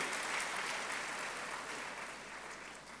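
Steady applause from a crowd, dense and sustained, fading slightly toward the end.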